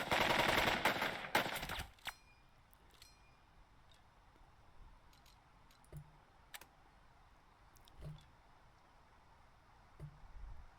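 Gunfire from the video game Burden of Command opens with a loud burst of rapid automatic shots lasting about two seconds, followed by quiet stretches broken by scattered faint pops and a few isolated distant shots.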